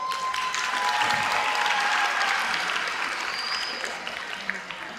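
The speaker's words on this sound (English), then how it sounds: "Give a round of applause, guys." Steady applause from a high school auditorium audience fills the whole stretch, dense and even, thinning slightly toward the end with a few scattered claps.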